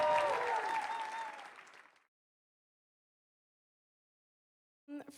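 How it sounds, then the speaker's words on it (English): Wedding reception guests applaud the groom's mother and father, with full crowd clapping and cheering that fades to silence after about two seconds, then a short burst of another sound near the end. "big round of applause, the mother and father of the groom."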